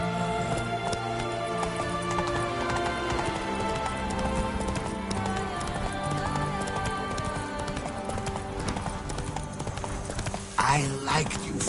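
Geralt's horse Roach clip-clops in the video game The Witcher 3, with a steady stream of hoofbeats under game music and voices talking, and a brief louder burst near the end.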